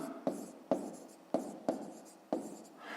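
Pen strokes on paper as a fifth-grade math exercise is written out by hand, five distinct scratchy bursts in an uneven rhythm, each starting sharply and trailing off, close and clear with no talk.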